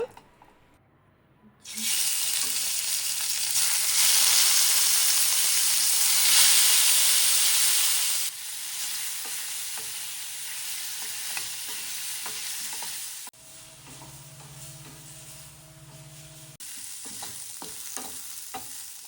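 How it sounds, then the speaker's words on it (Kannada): Marinated prawns hit hot ghee in a pan for a ghee roast, a loud, steady sizzle that softens after a few seconds, with scraping and stirring sounds and faint clinks near the end. "ಒಂದು ಬಾಣಲಿಗೆ ಒಂದು ಟೇಬಲ್ ಸ್ಪೂನಷ್ಟು ತುಪ್ಪನ ಹಾಕ್ಕೊಂಡು ಬಿಸಿ ಮಾಡಿ ಆನಂತರ ನಾವು ಮ್ಯಾರಿನೇಟ್ ಮಾಡಿರುವಂತಹ ಪ್ರಾನ್ಸ್ನ ಹಾಕ್ಕೊಳ್ಳೋಣ"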